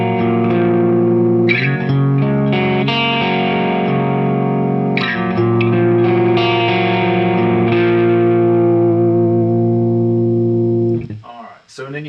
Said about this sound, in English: this is just the amp on the clean setting.